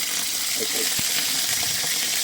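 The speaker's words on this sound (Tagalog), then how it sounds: "Prito mo muna yung bangus." Milkfish (bangus) fries in a pan, giving a continuous hissing sizzle with small crackles and pops, with a voice nearby.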